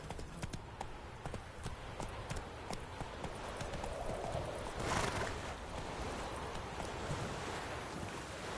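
A horse galloping in The Witcher 3 video game, rapid rhythmic hoofbeats over a wind-like rushing background, fairly quiet, with a brief swell of noise midway.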